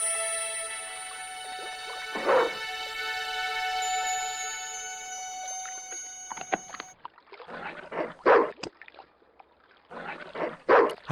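A dog in the video game Broken Sword 2: The Smoking Mirror (Remastered) lets out several loud, close barks and yelps in bursts after a stretch of tonal game sound.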